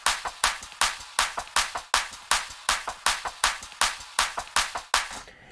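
A brisk Graves drum loop plays on its own, punchy hits and crisp noisy snare-like strikes repeating in a tight, even rhythm.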